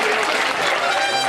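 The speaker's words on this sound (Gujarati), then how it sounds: "આપણે જોરદાર તાળીઓથી વધાવીએ." Audience at an honouring ceremony breaks into dense, continuous applause, a close crowd clapping steadily through the moment.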